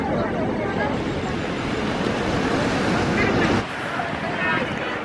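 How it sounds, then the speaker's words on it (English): Steady rushing surf on a Mexican beach with wind buffeting the microphone, a broad wash of ocean noise that briefly dips near the end. "There's a big wave coming."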